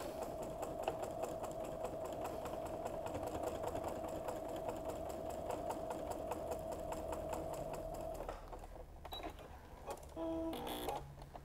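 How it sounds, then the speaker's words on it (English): A sewing machine hums and stitches in a fast, steady rhythm, then stops, followed by a few clicks and mechanical clatters. "I'm going to go back to the sewing machine with my 1/4 inch"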